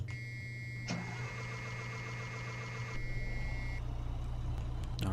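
Blue Bird WorkStar school bus in Rigs of Rods cranking and catching into a running engine, a steady warning beep tone sounding over it before the motor settles into a low idle rumble.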